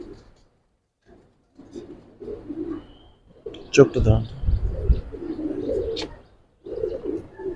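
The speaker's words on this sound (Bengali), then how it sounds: "এটা একটা মাদি কবুতর" A female giribaz pigeon coos in soft, low, repeated murmurs close by, while someone talks over and between the calls.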